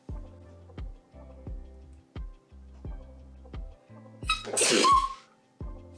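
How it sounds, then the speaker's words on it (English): A single loud sneeze bursts out near the mic, set against a steady ticking rhythm that runs throughout. "I desperately need to sneeze"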